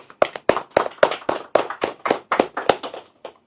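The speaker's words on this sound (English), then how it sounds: "So let's give everybody a round of applause." A small group applauds at the close of a cancer-awareness podcast presentation, with distinct individual hand claps coming in an uneven, fairly close patter that thins out at the end.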